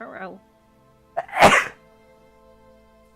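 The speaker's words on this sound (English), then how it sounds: "I'm about to sneeze, I think." A single loud, close sneeze bursts out after a brief spoken remark, sharp and explosive, then fades into quiet room tone.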